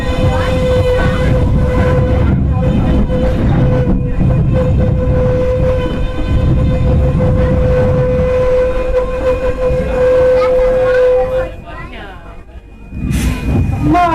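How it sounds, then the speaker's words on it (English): A Tweetsie Railroad steam train comes to a stop at Fort Boone, with a loud, steady whistle-like tone and rumbling rail noise running for about eleven seconds before it drops off and then briefly picks up again, while voices are heard. "We'll be stopping the train to find out what's going on."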